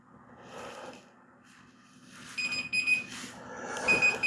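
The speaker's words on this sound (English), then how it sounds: "So there's our timer." A kitchen timer goes off while lasagna bakes in the oven, its thin high-pitched beeping starting partway through and repeating in short bursts over a low background hum.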